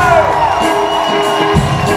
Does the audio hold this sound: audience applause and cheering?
yes